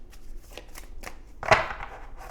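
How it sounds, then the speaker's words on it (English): Tarot cards being shuffled by hand, a few soft riffling flutters and a louder crisp riffle partway through, close and quiet with no other sound. "Let's go ahead and get a shuffle in here for you"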